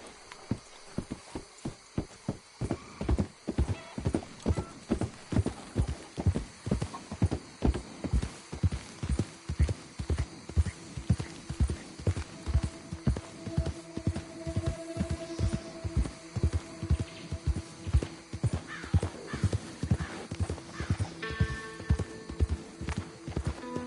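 Horse hooves clip-clop steadily in Red Dead Redemption 2, a brisk even rhythm of close, loud thuds running the whole time over a low steady hum, with no talking.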